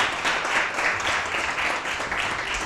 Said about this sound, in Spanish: un poquito de aplauso tampoco pasa nada